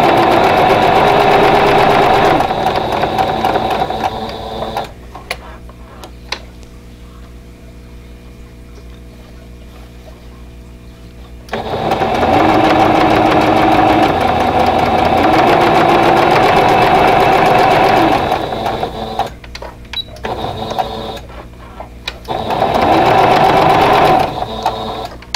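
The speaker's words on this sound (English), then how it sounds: "I'm going to sew with the background down, so I can watch my seams." A sewing machine stitches a seam on a vintage-style quilt block, running loud and steady in long stretches with a quieter pause in the middle and short stops near the end.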